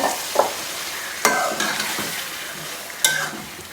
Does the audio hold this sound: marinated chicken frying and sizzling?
yes